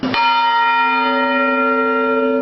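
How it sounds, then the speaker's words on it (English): The Kawaiaha'o church bell, cast in 1861, rings once close and loud in the bell tower, then hums on in a long sustained ringing decay. "The bell cast in 1861."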